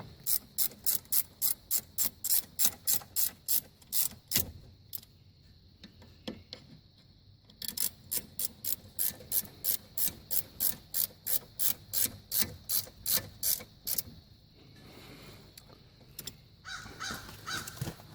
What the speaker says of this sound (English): grab that 17mm wrench and tighten them down